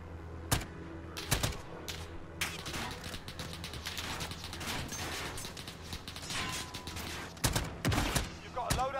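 Gunfire in a realism battle royale video game: sharp bursts of shots and rapid volleys crack out at irregular moments, loud and close, over a low, busy background.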